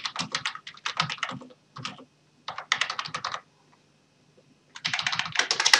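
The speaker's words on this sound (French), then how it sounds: "je vais commencer à taper mon courrier" Typing a letter on a computer keyboard: bursts of rapid, close key clicks separated by short pauses, loud and clear with no talking.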